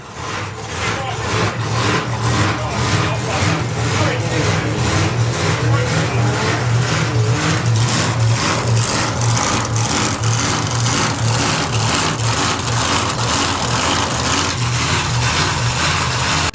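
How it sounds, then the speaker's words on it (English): Drag racing doorslammer cars, including a Firebird, roaring past on the strip with a loud, sustained engine drone and rapid pulsing exhaust beat throughout, steady and close, with a commentator's voice under the noise. "noisy cars coming round"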